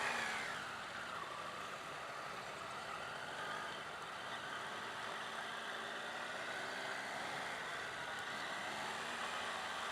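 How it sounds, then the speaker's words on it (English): A 2018 Triumph Tiger 800 XRt motorcycle engine and exhaust gives a steady, smooth hum with a broad whooshing of road and wind noise around it, continuous and fairly even in loudness. "Exhaust sounds excellent. It's very, very motory sounding."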